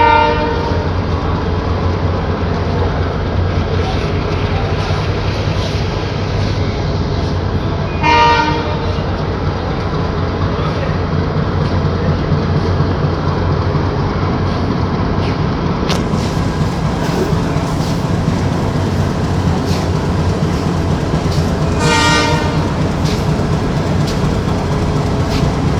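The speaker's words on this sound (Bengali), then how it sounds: "সামনে ট্রেনটির ইঞ্জিন সংযোজন সম্পূর্ণ হয়েছে" A passenger train idles at the platform of Kamalapur station in Dhaka with its engine attached, giving a loud steady diesel rumble throughout and two short horn blasts, one midway and one near the end.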